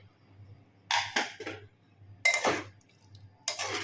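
Metallic clanks and scraping of a pressure cooker lid and pot being opened after cooking potato and jackfruit curry, in three separate bursts, fairly close, with quiet gaps and a low hum between them.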